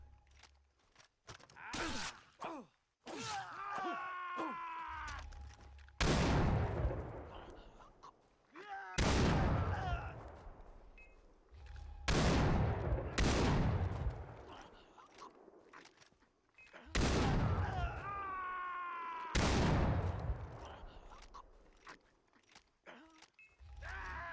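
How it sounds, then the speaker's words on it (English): Loud, close shotgun blasts from Far Cry 3 fire one at a time every few seconds, each a sharp boom with a ringing tail, while a player talks over the action. "This is a really good shotgun."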